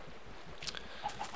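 Minecraft chickens in a packed automatic chicken farm machine give a few faint, short clucks over a soft, steady background.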